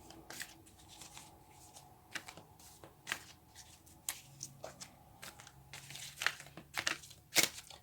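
Tarot cards being shuffled and riffled in short bursts, close by, with soft papery clicks and crinkles between the louder snaps.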